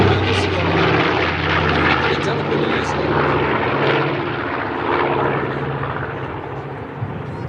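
Propeller aircraft fly in formation at an English airshow, producing a steady, loud droning engine roar that fills the whole stretch with slight swells as they pass, with crowd chatter faintly underneath.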